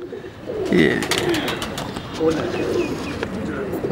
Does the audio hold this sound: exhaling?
no